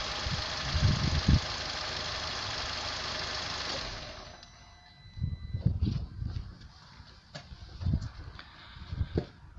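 A car engine runs with a steady idle hum during a fuel pump pressure check, then is switched off and cuts out abruptly, leaving quiet ticking and a few low bumps and knocks.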